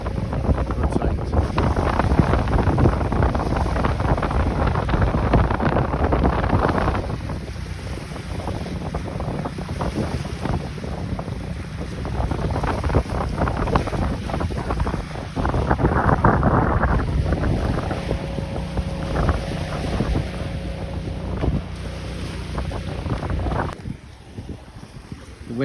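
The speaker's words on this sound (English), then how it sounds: "The wind's a bit of a pain down here" Strong wind by a UK estuary buffets the microphone in loud, rough, continuous rumbling gusts, easing briefly and then surging again, with a faint steady tone partway through and a drop near the end.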